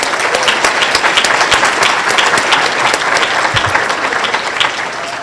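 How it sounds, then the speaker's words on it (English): Luncheon audience applauding at a fundraising event, a dense, steady wash of many hands clapping that stays loud for the whole stretch. "So please give them a round of applause at the moment."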